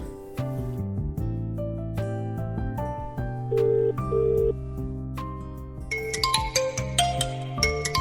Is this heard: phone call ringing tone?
yes